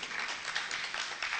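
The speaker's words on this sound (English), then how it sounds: "Please give him a big round of applause." Applause from a live talk-show audience for the sound engineer, a dense steady patter of many hands at moderate distance, fairly quiet and continuous with no voices over it.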